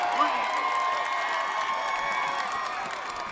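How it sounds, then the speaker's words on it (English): A high school football playoff crowd in Danville roars and cheers after a touchdown, a loud sustained wash of shouting and whooping with a voice speaking over it. "the crowd is going absolutely bananas here"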